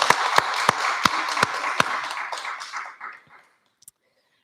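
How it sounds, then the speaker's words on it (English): Scattered applause for a nominee at a 2021 school graduation ceremony in Dundalk, a few loud distinct claps over a softer patter that thins out and stops about three seconds in, leaving silence and one last clap. "So can we give Natasha a round of applause, please?"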